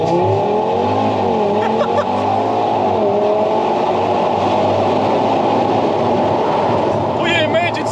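An Audi RS3 launches with launch control on an open road. A loud, close engine roars and climbs steadily in pitch through the whole stretch, dominating everything else.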